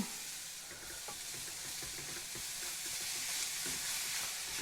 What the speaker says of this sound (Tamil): தேங்காய் பூவையும் இங்கிட்ட கருப்பட்டியை சேர்த்து நல்ல வடிவாக கலந்தெடுப்போம்.